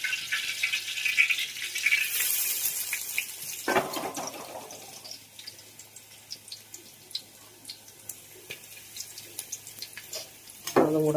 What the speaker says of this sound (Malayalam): അപ്പം നമുക്ക് വേപ്പില ഇട്ട് കൊടുക്കാം.